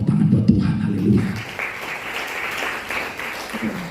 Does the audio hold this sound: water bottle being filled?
no